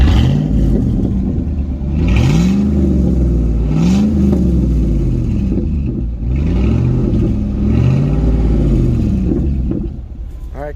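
A 2002 Chevy Avalanche pickup's engine revs up and down in repeated surges, a deep throaty exhaust rumble close by with the muffler removed, easing off at the end.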